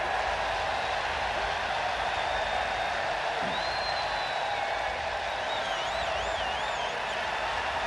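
A baseball stadium crowd at a Mets versus Braves game makes a constant, broad roar, with a few shrill whistles cutting through over the steady noise.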